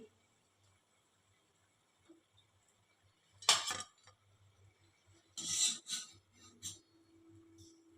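Fried chili bhaji being lifted out of hot oil and drained, with a quiet scrape and a few sharp utensil clinks, one at about three and a half seconds and a cluster near the end, with no talk.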